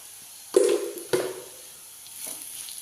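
Curry leaves dropped into hot oil in a pan give two sharp crackling spits followed by a soft, faint sizzle, close and quiet.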